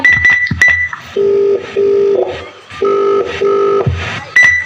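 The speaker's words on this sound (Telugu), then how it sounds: "ఏంటి నాన్న ఫోన్ లిఫ్ట్ చేయట్లేదు" A phone call is placed: a few quick keypad tones, then repeated paired ringback tones that go unanswered, loud and clear with brief gaps between rings.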